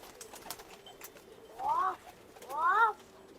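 Racing pigeons of large breeds coo in two distinct rising calls, close and clear, over a quiet room with faint background noise.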